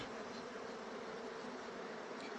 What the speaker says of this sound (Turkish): Evet arılarımız yine sinirlendiler.